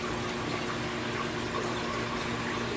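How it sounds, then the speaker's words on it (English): An aquarium sump spray bar shoots water across the top of a refugium in a fish room, a constant, even rush and splash with a low pump hum underneath, close by. "that spray bar shooting water across the top of the refugium"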